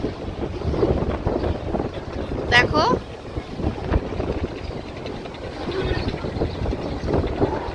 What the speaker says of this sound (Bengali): দেখতে পাচ্ছ জোরসে হাওয়া উঠেছে